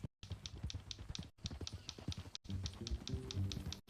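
Horse hooves clip-clop steadily in Red Dead Redemption 2, a quick regular rhythm of close taps that runs through the whole passage, with low ambient tones and brief gaps.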